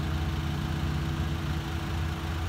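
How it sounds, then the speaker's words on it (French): An engine idling steadily nearby, a continuous loud rumble with an even low drone that holds unchanged throughout, no voices. "c'est pas parce qu'il fonctionne le moteur qu'on s'en va"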